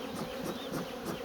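Honeybees buzz densely at an old beehive colony at the end of an apiary, a thick continuous swarm hum close by with slight pulsing swells and no voices.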